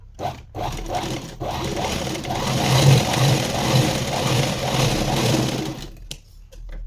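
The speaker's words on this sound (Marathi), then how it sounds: "इथून 3 इंच आणि इकडून 3 इंच शिलाई मारून घ्यायची, बारीक टाकायची" A sewing machine runs a steady, close-up run of fine stitches along a blouse sleeve, whirring continuously for several seconds before stopping abruptly near the end.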